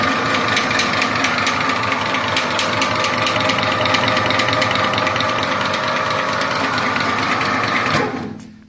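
An industrial MIM 300 meat grinder, a used professional machine, runs steadily with a dense mechanical whir and clatter for about eight seconds, then its motor winds down to silence at the end; no voices.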